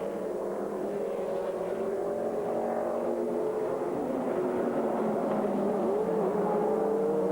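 Audi race cars lap an American Le Mans Series circuit in 2001, their engines a continuous, moderately distant whine with shifting pitch as cars rise and fall past under steady track ambience.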